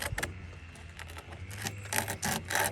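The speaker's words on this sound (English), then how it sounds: "proceed to file on one side of my key. Just light pressure, and I'm gonna work it back and forth." A Stihl MS 200T chainsaw flywheel key is rubbed back and forth on sandpaper under light pressure, giving close, soft, gritty scraping strokes in a steady rhythm.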